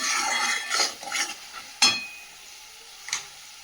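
Spice paste fries in oil for chicken curry, a light sizzle under a series of close scraping stirs and a sharp spatula knock against the pan, then quieter frying with one more tap near the end.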